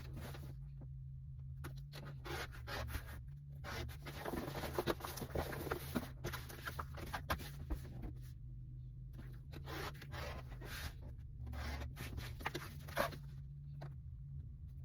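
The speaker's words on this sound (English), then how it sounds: "So I'm going to cut 2 strips from the selvage edge of my cork piece." Cutting strips of cork fabric produces soft, intermittent scraping and slicing sounds, close and quiet, in bursts separated by near-silent pauses over a low background hum.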